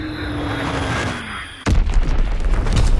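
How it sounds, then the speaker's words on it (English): A bomb explodes in a World War II video game: a sudden close, heavy boom cuts through an airplane drone and rumbles on as a deep, loud roar. "Enemy bomb incoming."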